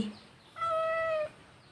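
A single clear cat meow, drawn out for about half a second, close by against a quiet background.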